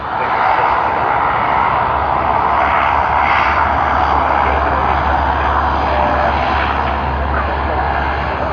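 A Link Airways airliner just arrived at Sydney from Canberra, giving a constant engine drone and rumble that sits loud and steady for the whole stretch, with no speech.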